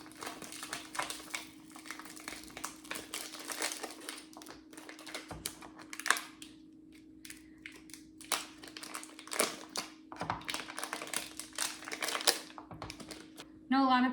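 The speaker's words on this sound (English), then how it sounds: "So a lot of times when I'm shredding these blocks of cheese, I like to cut them in half lengthwise." A block of cheddar cheese is being shredded by hand, a steady run of quick scraping rasps that stops and starts over a constant background hum, with a voice talking over much of it.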